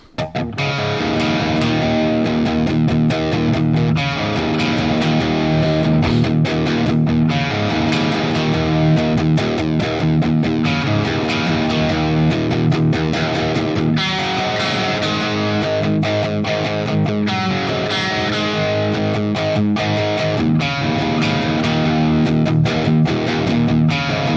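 A heavily distorted electric guitar plays chunky rock riffs through a 50-watt Evil Joe high-gain amp, loud and continuous, with sustained chords and sharp picked accents.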